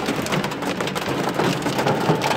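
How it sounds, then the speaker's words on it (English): Heavy rain pours down steadily during a severe storm, a dense continuous hiss of drops drumming on surfaces, loud and close with no voices. "Raining super hard."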